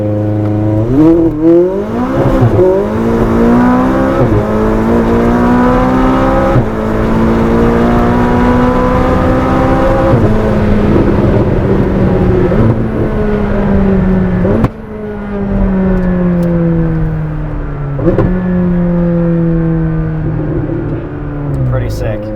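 McLaren 600LT with air filters, tuning, downpipes and a fire-breathing exhaust launching from a dead stop at night, its engine note climbing loud and close through several gear changes over the full run.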